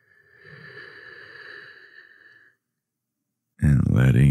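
A slow, deep inhaled breath taken during a guided meditation, a soft airy hiss swelling for about two seconds and fading, followed by a pause of silence before a voice starts speaking close up.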